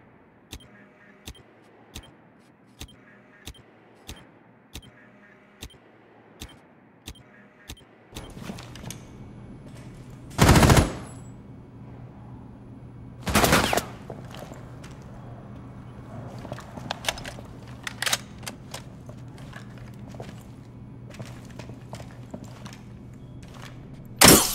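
Rainbow Six Siege match on a plane map, with regular footstep-like ticks early on, then two loud, heavy shotgun blasts a few seconds apart amid lighter in-game clatter and bangs.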